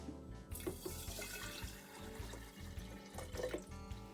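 Water pours into a glass jar of sprouts, a continuous gurgling splash with a few bright trickles and glugs, close and moderately loud, without any talk.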